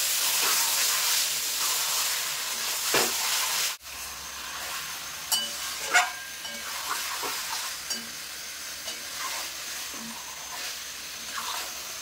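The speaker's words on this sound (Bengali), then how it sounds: "এবার ধুয়ে রাখা মাংসটা আমি দিয়ে দেবো এর ভিতর, দিয়ে মশলার সঙ্গে কিন্তু খুব ভালোভাবে কষিয়ে নেব।" Chicken pieces sauté in an oily spice masala in a pan, giving a continuous bright sizzle and hiss with occasional stirring scrapes and a brief clatter, close and steady throughout.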